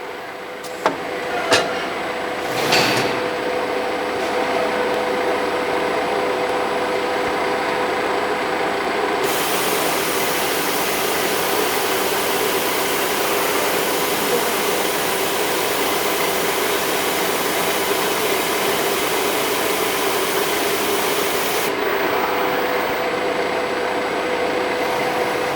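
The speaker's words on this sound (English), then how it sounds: "Then the machine puts T7 back and takes T12." An automatic labeling and loading/unloading machine swaps tools, setting T7 back and taking T12. It gives a steady whirring, hissing mechanical drone, with a few sharp clicks at the start and a brighter airy rush through the middle stretch.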